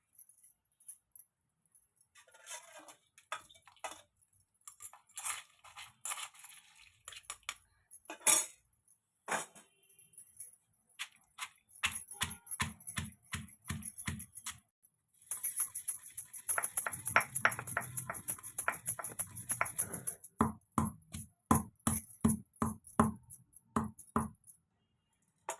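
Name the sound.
pounding coconut and salt in a small stone mortar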